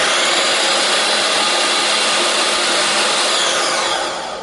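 A food processor set on low grinds dry ingredients to a coarse texture, making a loud, steady whirring roar that carries on without a break and then begins to fade near the end.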